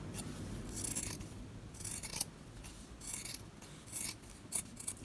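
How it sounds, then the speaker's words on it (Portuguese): Scissors snipping the fringe off the edge of a small cloth towel: a series of crisp, close metallic cuts in an uneven rhythm, about six or seven snips with soft rubbing in between, no talking. "Vamos cortar desse lado e lá do outro a mesma coisa."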